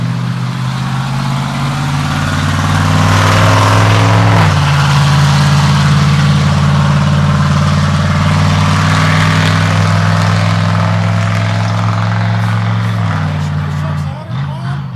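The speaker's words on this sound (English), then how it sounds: "I hate loud cars like that." A loud car engine rumbles steadily close by for the whole stretch, its tone dropping as it passes, with background noise around it.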